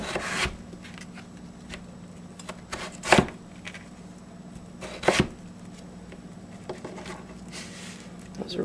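A knife chops and minces ingredients for smoked chicken chili on a board, giving scattered light taps and a few sharp, louder chops close by, with no talk.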